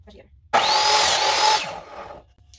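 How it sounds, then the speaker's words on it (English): A power drill whines loudly for about a second, its pitch rising slightly before it winds down, with faint noise before and after. "I feel so powerful with power tools."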